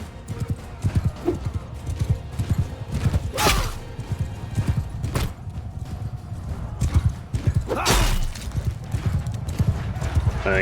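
Horses gallop in Mount and Blade II Bannerlord, a steady clip-clop of hooves over a battlefield din, with crashing impacts around 3.5 and 8 seconds and someone talking over much of it.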